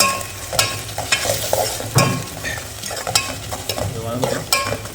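Fish curry paste sautéing in oil with rock salt for a Tamil meen kulambu, loud close sizzling broken by repeated scraping stirs of a spoon against the pan.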